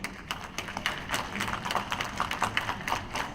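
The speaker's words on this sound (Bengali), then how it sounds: "মাঝে মাঝেই করতালিতে মুখরিত হয় জাতিসংঘের সদর দফতর" Applause ripples through the United Nations headquarters as world leaders listen to an address: dense, steady clapping from many hands, moderately loud and sustained throughout.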